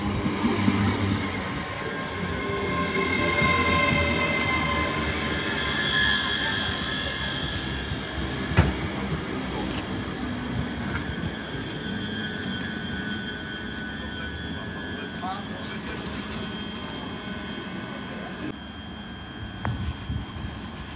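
A train moves through Falkirk Grahamston station, a low, continuous rumble with brakes or wheels whining faintly over a steady wash of platform noise for about twenty seconds.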